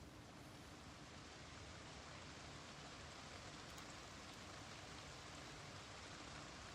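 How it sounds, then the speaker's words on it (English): Steady rain hisses across the Project Zomboid game world, a quiet, even wash of falling drops with no breaks and no voices. "It is starting to rain."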